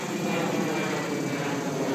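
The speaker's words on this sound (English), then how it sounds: "There's airplane." An airplane passes overhead, making a faint, steady, distant roar that fills the short stretch evenly, with no talk over it.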